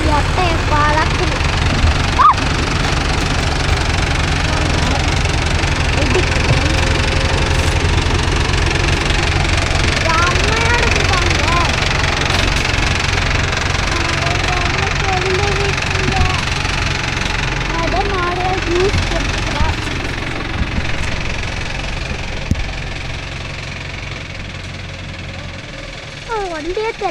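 A Mahindra Yuvo Tech Plus 585 4WD shuttle-gear tractor pulling a 9-tine cultivator, its diesel engine running with a steady loud rumble and knocking throughout, while voices talk over it.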